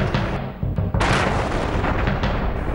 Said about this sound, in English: thuds of explosion